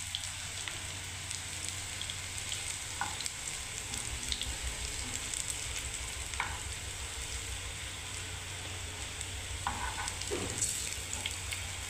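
Raw banana koftas frying in hot oil, giving a continuous soft sizzle and crackle with a few brief clicks, steady and fairly quiet throughout.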